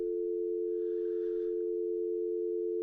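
A steady, continuous telephone dial tone holds at an even level for the whole stretch, clean and unbroken, with only faint background noise and no talking.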